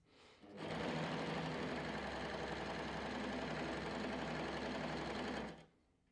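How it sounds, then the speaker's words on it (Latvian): A Bernette b68 Maker sewing machine stitches a flatlock seam, running at a steady fast hum for about five seconds with a close mechanical rattle, then stopping abruptly. "pamēģināsim tā, ka šūsim no labās puses šo te vīli, ja, un no kreisās"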